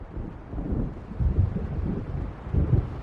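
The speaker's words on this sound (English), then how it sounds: "It seems there's a storm coming." Deep rumbling thunder from an approaching storm in the video game Alan Wake Remastered, rolling in low swells with a gusty wind-like roar throughout, no voices.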